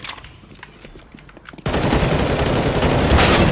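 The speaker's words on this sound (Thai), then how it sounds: "โอ้มันยิงหัวนัดเดียวเราตายเลยอ่ะ" Gunfire in Counter-Strike: Global Offensive, a few scattered shots and then a sudden loud sustained burst of rapid automatic fire that continues to the end.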